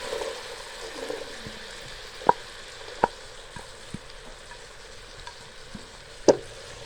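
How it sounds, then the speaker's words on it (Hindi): Chickpeas fry in oil-rich masala while being stirred, a steady soft sizzle broken by several sharp spoon clicks against the pan, close and without talk. "भूनते हुए 2 मिनट हो चुके हैं"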